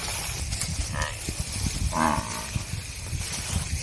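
A buffalo calf bellows in fear, two short loud calls standing out over a rumbling, noisy outdoor background.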